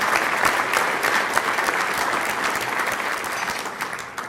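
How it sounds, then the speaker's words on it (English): Audience applause for the 2014 inductees at a business leaders' luncheon, steady dense clapping that fills the whole stretch at a loud, even level, with no voices over it. "Give them another round of applause."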